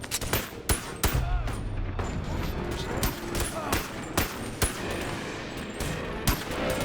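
Handgun fire in the VR video game Boneworks: a rapid string of sharp, punchy shots, often in quick pairs, with game noise between them and a low hum, heard up close.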